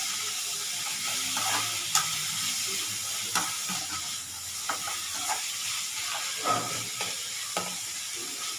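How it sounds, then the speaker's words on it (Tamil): Bitter gourd fries gently in oil over a low flame: a soft, quiet sizzle runs throughout, broken by a few light clicks as the pieces are turned. "வறுக்க ஆரம்பிங்க"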